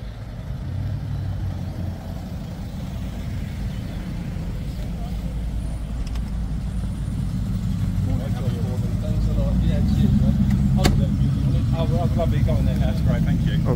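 A Triumph Stag engine idles with a low, steady rumble that swells and grows louder toward the end, with a few sharp clicks and knocks over the running engine.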